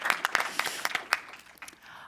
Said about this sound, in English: Yes, you can applaud for her.